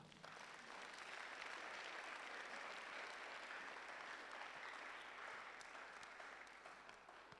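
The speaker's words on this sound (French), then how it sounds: "Applaudissons pour le Seigneur" A church congregation applauds, a dense, steady wash of clapping hands that fills the whole space evenly from start to finish, with no break and no voices rising above it.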